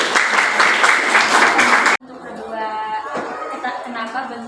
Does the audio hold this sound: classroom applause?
yes